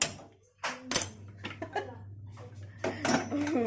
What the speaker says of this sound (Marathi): चला तर आपण कुकरचं झाकण लावून कुकरला दोन शिट्या काढून घेऊया